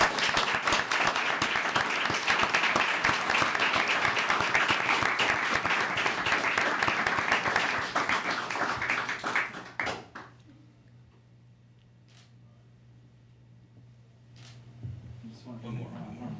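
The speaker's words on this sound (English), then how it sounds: "Let's give them a great round of applause." Loud audience applause fills a council meeting chamber for about nine seconds, then fades abruptly into quiet room tone with a few scattered taps and soft murmurs.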